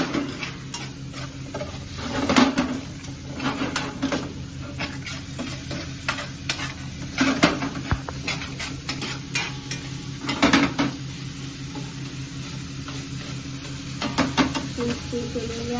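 Tomatoes cooking in a salted pan over a raised flame give a steady close sizzle with repeated clinks and scrapes of a spoon stirring against the pan, continuous throughout.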